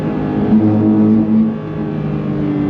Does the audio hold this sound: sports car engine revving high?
yes